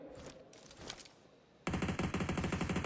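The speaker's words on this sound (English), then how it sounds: "Mafioso barely can peek out before the bullets whiz past his forehead." Rapid automatic gunfire in PUBG Mobile during a tournament match, quieter scattered shots at first, then a loud sustained burst of fast repeating fire.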